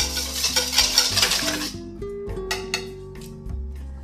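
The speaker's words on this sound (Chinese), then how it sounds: "蛋黄中加入油和牛奶， 搅拌均匀，" Egg yolks with oil and milk are stirred in a bowl for Swiss roll batter, a close scraping, whisking rub that runs for about a second and a half, followed by quieter clinks and taps of the utensil against the bowl.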